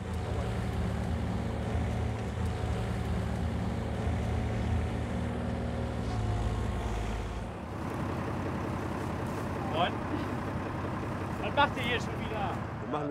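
A stuck farm vehicle's engine roars steadily as its wheels spin in soft topsoil, a loud continuous rumble that drops away partway through, followed by quieter engine noise and a few faint knocks; someone talks during it.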